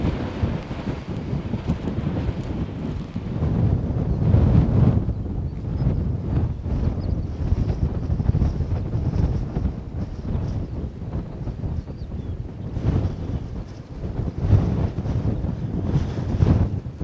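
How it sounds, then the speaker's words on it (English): Strong wind gusts across a hillside camp, a loud, continuous roar buffeting the microphone for the whole stretch with only slight lulls, and no voices. "as you can hear, it's still windy"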